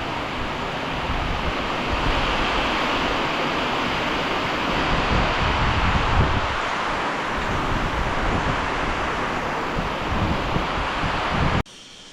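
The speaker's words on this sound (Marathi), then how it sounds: "वारा पाऊस एकत्र बघा सर्व" Heavy rain pours steadily while wind roars in a dense, continuous rush, cutting off abruptly near the end.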